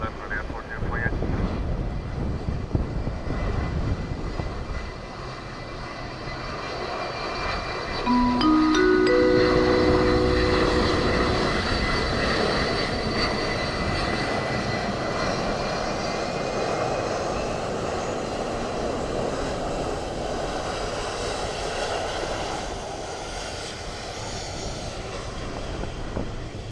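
A Ryanair airliner lands on runway 28 left at Dublin Airport in a stormy, gusty crosswind, its engine roar swelling and peaking midway over steady wind noise, with a rising whine of tones as it passes.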